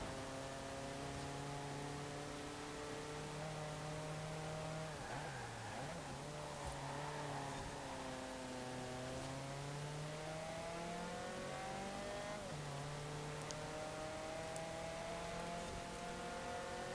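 An Alfa Romeo car in Forza Horizon 4 accelerates. The engine note climbs steadily through the gears, with brief dips at each shift, over a steady hiss of road and wind. It is sustained and clear, with no speech.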